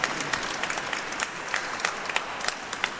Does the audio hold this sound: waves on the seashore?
no